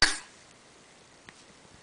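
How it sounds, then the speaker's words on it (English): A single short, sharp cough from a child opens the moment, close by, followed by near silence with a faint click. "That was a cough, baby, not bye"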